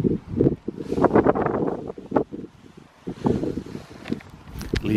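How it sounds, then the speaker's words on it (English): Chilly morning wind buffets the microphone outdoors at an archery invitational tournament, coming in loud rumbling gusts that swell and ease over a few seconds, with rustling in between. "It's a little chilly and it's kind of windy this morning."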